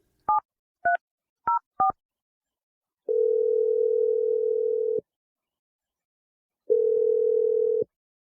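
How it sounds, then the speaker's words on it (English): A telephone keypad beeps four short touch-tones while a number is dialled. Two long, steady ringback tones follow with a pause between them, clear and with no talk. "I'm going to dial the phone."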